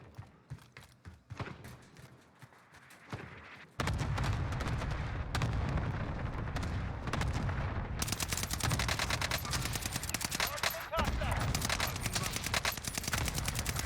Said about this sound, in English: I have a cluster for these guys too. Allied cluster strike arriving.